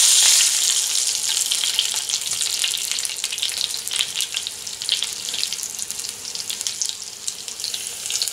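Packrat meat fries in a pan with steady, loud, close sizzling and hissing, with scattered pops and crackles throughout.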